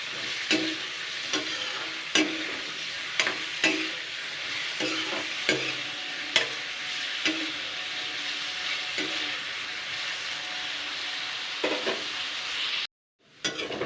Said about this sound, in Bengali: যেরকম আলু ভাজা করে তো সেরকম আমি আগে ফ্রাই করে নেবো একটু নুন দিয়ে।